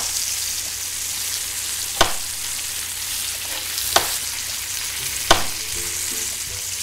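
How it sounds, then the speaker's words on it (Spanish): Cooking sizzle in a Roblox video game, a steady loud frying hiss with three sharp pops or taps spaced a couple of seconds apart, no talking. "ya viste que están cocinando a un robloxiano ahí"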